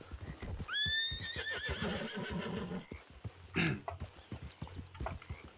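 A horse in the western game RedM gives a loud, rising whinny followed by snorting, with clip-clop hoofbeats going on throughout at close range.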